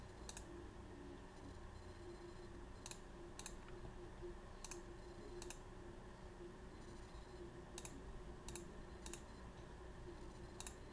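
Computer mouse clicking during work in drawing software, a few faint sharp clicks spaced irregularly over a steady low background hum.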